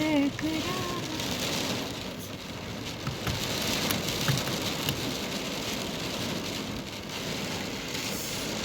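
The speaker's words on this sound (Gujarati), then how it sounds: "એકદમ વરસાદ આવે એટલે આગળ તડકો હતો ને એટલી ઘડી વરસાદ આવે." Heavy rain pours down outdoors after a sunny spell, a dense steady hiss of drops drumming on surfaces throughout, with a faint voice briefly at the start.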